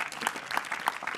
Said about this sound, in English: can we give our judges a round of applause?